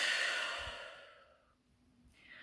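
A single long, deep breath out during a calming anxiety-relief tapping exercise, close and soft, with airy breath noise slowly fading over a couple of seconds before a faint fresh inhale.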